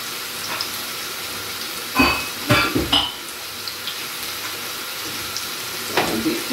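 A steady sizzling hiss of mushrooms frying in a pan, with a few clattering scrapes of stirring partway through.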